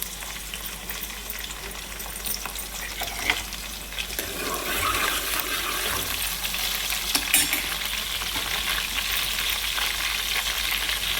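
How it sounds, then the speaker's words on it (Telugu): Green chillies frying in a pan, a steady close sizzle with occasional stirring clicks running throughout, no talking. "వెంటనే పచ్చిమిరపకాయలు వేసేస్తున్నాను."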